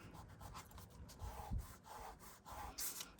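Paper feather pieces pressed together over a wire vein and rubbed, making soft, continuous papery friction with brief louder scrapes and a light thump midway, close and quiet with no talk.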